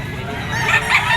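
A Kelso Firebird gamecock stag, a young white yellow-legged bird, crowing once at close range, a short loud burst with no voices over it.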